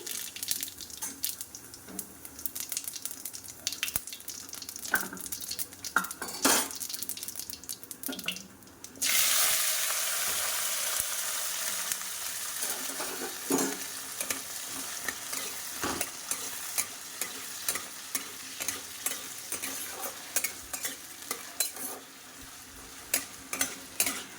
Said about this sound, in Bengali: তো চলো একটুখানি আলুটা ভেজে নিই